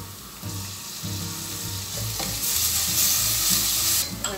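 Garlic and onion frying together in oil in a small pot for a wheat chowder, a close, steady hiss and crackle that swells louder midway, with soft stirring scrapes.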